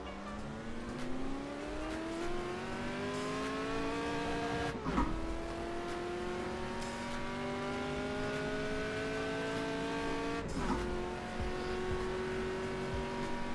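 A Ford GT race car is driven in a sim racing video game, its engine note climbing steadily through the gears with two brief shift breaks, loud and continuous with no talk.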